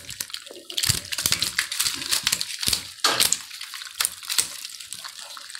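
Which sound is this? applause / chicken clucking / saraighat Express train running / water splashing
water splashing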